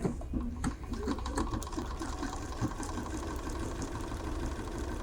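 A Bernina sewing machine stitches a repeated pattern with a rapid, steady mechanical whir and a fast ticking rhythm, close by and continuous, with no speech.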